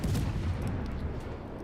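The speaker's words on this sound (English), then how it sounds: "A lot of things firing at us here." A single deep, rumbling naval gun blast from World of Warships rolls out and decays over a couple of seconds, heard alone.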